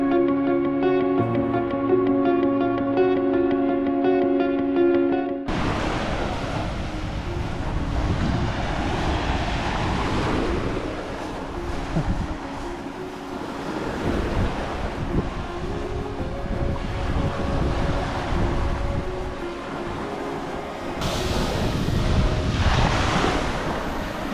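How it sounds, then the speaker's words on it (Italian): Strong wind buffets the microphone while waves break along the west coast at Is Arutas, a continuous heavy rush of surf and gusts after a brief musical opening, with no talk. "non so se mi sentite ma c'è vento, un pochino meno ma continua a esserci vento"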